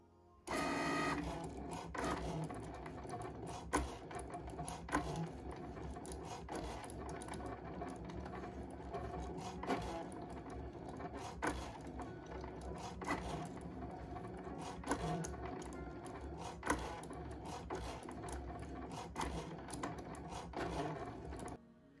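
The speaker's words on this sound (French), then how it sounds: "Donc je vais installer la Cricut et on va découper ça" A Cricut cutting machine slicing a sheet of vinyl, giving a steady mechanical whir and rasp with small clicks and bumps as the carriage shuttles back and forth, continuous and fairly faint, with no talking.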